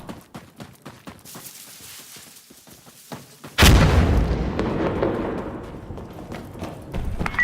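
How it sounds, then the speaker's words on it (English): In the video game Insurgency Sandstorm, a thrown grenade goes off as one loud, deep boom partway through, with a long rumbling tail. Light clicks and movement sounds come before it. "I'm gonna throw a grenade randomly through the window to see if it helps"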